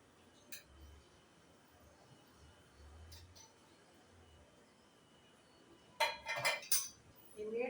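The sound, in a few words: mixing cutlet ingredients in a bowl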